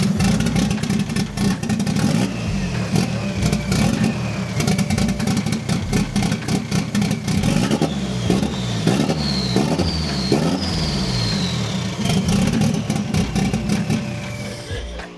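Nissan S14 with an SR20 engine revving loudly and pulling forward in gear, with repeated throttle blips and rising engine pitch close by, continuous through the whole stretch.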